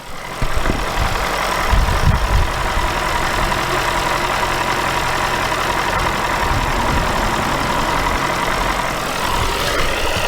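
A Range Rover engine after a full rebuild idles steadily and loudly up close, a smooth continuous rumble with a faint underlying whine and occasional low thumps, no talking.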